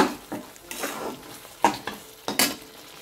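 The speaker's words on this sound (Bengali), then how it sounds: "এক চামচ জিরে গুঁড়ো দেবো ভালো করে মশলাটা কষে নেব" A spoon stirs spice masala with a spoonful of cumin powder as it fries in a pan for a cabbage dish, giving several distinct scraping strokes over a low sizzle, close and fairly loud.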